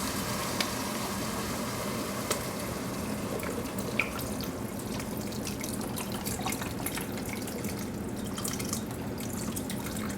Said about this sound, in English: now we're ready to put in a little bit of wine